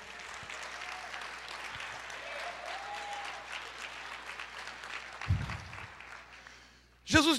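A church congregation claps steadily at a worship service, the applause moderately loud and continuous before fading near the end, followed by a short burst of voice.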